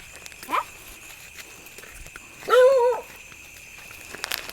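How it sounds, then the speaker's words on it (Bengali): A dog barks outdoors at night on a rain-wet road, a short yelp followed by a louder drawn-out bark, then a faint sound at the end, fairly near against a quiet background. "হ্যাঁ ডগিও চিল্লাচ্ছে"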